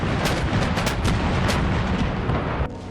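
Artillery bombardment from a Chilean battery in a War of the Pacific battle account, a dense continuous roar of booms and blasts at steady loudness that drops off abruptly near the end.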